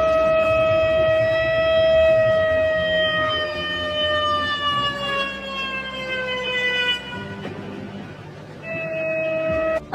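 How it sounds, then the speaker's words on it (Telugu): Air raid sirens wail across Pakistan in a long, steady rising and falling tone, several sirens layered together, loud and sustained, briefly dropping out near the end before resuming. "పాకిస్తాన్ లో సైరన్స్ సుప్రభాతంలా మోగుతున్నాయి"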